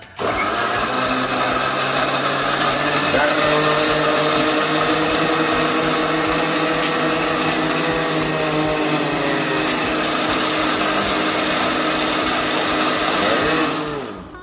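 An electric mixer grinder whirs loudly and continuously while blending fruit into juice, a dense high-pitched motor whine that holds steady for about fourteen seconds before cutting off.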